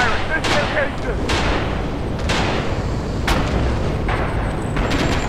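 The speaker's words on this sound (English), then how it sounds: "We need artillery fire at this location!" Artillery fire in Red Orchestra 2: Heroes of the West, a WWII shooter, rumbles under a dense, constant battlefield din, with several sharp booming blasts landing at irregular intervals across the stretch.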